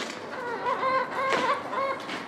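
Barn chickens and a rooster cluck and squawk close by in a short burst of overlapping fowl calls.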